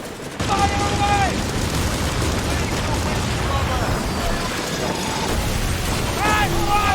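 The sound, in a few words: ship cannons firing, from the video game Skull and Bones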